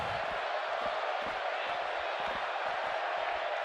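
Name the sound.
crowd cheering in WWE 2K17 video game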